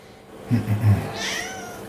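A house cat during a board game session gives a short, drawn-out meow at close range, followed by a quiet room.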